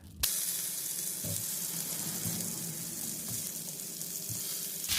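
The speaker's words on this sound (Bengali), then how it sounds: "এখন আমি পটেটোগুলা ভেজে নেব জ্যাকেট পটেটোগুলা" Jacket potatoes fry in melted butter and olive oil in a pan, a soft continuous sizzle and hiss with a few faint knocks, close and fairly quiet.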